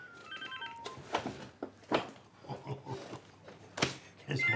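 An office telephone rings in short electronic trills at the very start, faint and quickly buried under lively conversation in French between several people.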